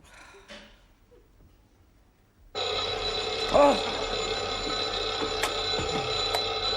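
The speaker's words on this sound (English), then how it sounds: "I must be the only one in the world whose alarm clock winds him up." A bedside alarm clock in a sitcom bedroom bursts into a loud, continuous metallic ringing after a quiet stretch of low murmuring and then keeps going unbroken, with a faint clack partway through.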